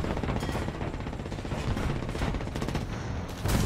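Dense, continuous video-game gunfire with overlapping rapid shots and heavier blasts, loud and close throughout, with no one speaking.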